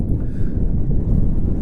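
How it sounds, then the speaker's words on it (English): Gusty wind buffeting an outdoor microphone, a steady low rumbling roar that fills the whole short stretch without letup and with no voices. "Oh, it's windy."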